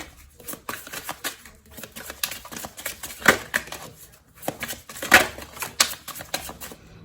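Tarot cards being shuffled and drawn from a deck, soft irregular papery riffles and flicks at close range, with small sharp snaps as cards are pulled out.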